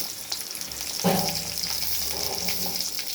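Garlic frying in a pan as it is stirred, a close, steady sizzle with a louder burst of crackling when it is moved, with no voices.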